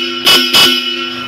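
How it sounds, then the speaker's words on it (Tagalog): A Bosch Europa car horn sounds two loud, short blasts close by, each lasting a fraction of a second, with a brief gap between them. No one speaks. "So try na to ang Bosch Europa horn."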